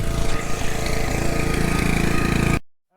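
Small engine running after repair, smoking from the muffler as oil burns off; a loud, close, rapid chugging that runs steadily for under three seconds, then cuts off abruptly.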